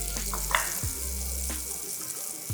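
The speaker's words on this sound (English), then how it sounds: "I have 2 tablespoons of butter here. My pan is on medium-high, lower side of medium-high. And I'm just gonna go ahead and put this in." Two tablespoons of butter hit a pan on medium-high heat and sizzle and fry steadily, with a few faint clinks over the crackling and no talk.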